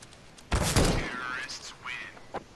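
A short burst of loud automatic gunfire comes from a CS:GO match, followed by quieter game sounds while players talk over the action.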